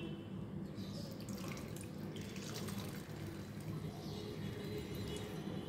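Washed chhena, curdled with vinegar and rinsed for rasmalai, is gently pressed by hand to squeeze out its water, giving a steady close trickle and drip that runs unbroken throughout.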